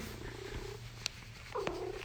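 A pet cat purrs softly and steadily up close, a faint low rumble with no talk over it.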